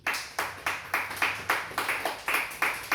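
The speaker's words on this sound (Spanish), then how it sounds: "Dale palmas a Jesús bien fuerte." Rhythmic clapping from a church congregation, about ten sharp, evenly spaced claps in three seconds, loud and close with no talking over it.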